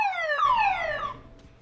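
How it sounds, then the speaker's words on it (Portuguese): A car alarm or siren-like tone sweeps downward in a repeating whine, moderately loud and alone, fading out after about a second. "Alarme, tô falando!"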